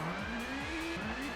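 A touring car spins out in the ToCA Touring Car Championship video game, its engine note droning and wavering as the revs rise and fall in quick sweeps, with a steady tire-scrub hiss underneath.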